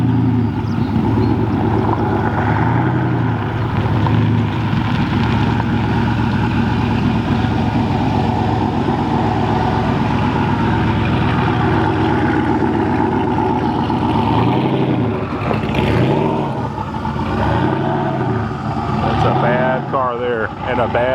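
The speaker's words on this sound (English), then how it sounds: "So that's a fast car there." A fast drag car at a racetrack, its engine roaring continuously at moderate distance, with a rising pass near the end, under people talking.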